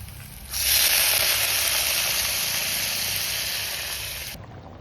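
Water poured into a hot pan of fried taro and slit green chillies sets off a sudden loud hissing sizzle that holds steady for about four seconds, then cuts off abruptly.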